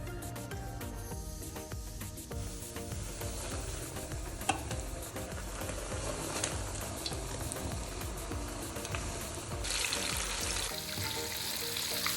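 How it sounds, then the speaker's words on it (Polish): Breaded carp fries in hot oil inside a kazan, giving a continuous dense sizzle with scattered crackles and pops at low steady volume, with no voices. "Muszę jeszcze chwilkę poczekać, aż się rozgrzeje ten kazan do odpowiedniej temperatury oleju i zacznie smażyć."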